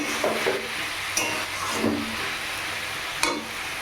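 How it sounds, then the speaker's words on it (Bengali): Figs, soaked overnight with a little flour, being sautéed in a pan, a steady close sizzle broken by several scraping stirs and sharp clicks of a spoon against the metal. "ডুমুরটা ভালো করে কষানো হচ্ছে।"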